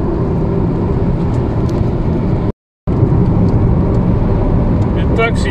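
A Nissan Leaf electric car drives along with a steady whir and broadband road and tire noise heard from inside, briefly cut to silence partway through.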